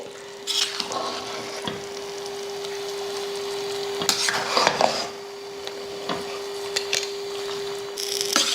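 Ambur chicken biryani rice in a pot being stirred up from the bottom with a utensil, irregular scraping and clinking strokes over a faint sizzle and a steady low hum, with no voices.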